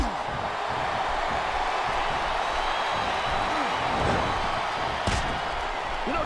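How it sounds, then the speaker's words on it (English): A dense, steady roar of an arena crowd in a WWE SmackDown! vs. RAW wrestling game, constant throughout, with commentary voices talking over it and one brief sharp thump near the end. "Sounds like this crowd's got something on their minds"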